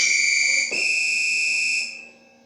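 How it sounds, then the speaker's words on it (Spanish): A whistle blows in two loud, shrill, steady blasts close by, the second held a bit longer before fading out, with no speech. "Los que dijeron silbato están en lo correcto."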